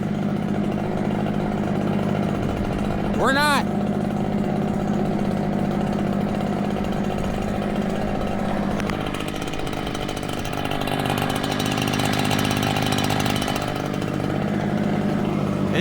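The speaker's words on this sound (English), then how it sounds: "we're blowing snow with leaf blowers" Gas leaf blowers used to clear snow roar steadily and close by, a constant engine drone that rises and falls slightly, with a brief squeal near the start and a short spoken remark.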